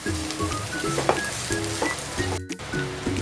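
Pineapple paste and spices sizzle and fry in a pan for a prawn curry, a steady crackle with repeated stirring and scraping strokes close by.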